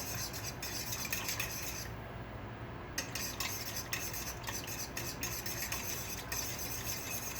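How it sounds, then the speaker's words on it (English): A utensil stirs lye into water in a bowl, giving a faint, continuous scraping with small clinks against the sides. It runs for several seconds with no one talking. "you want to mix the lye into the water until it disappears"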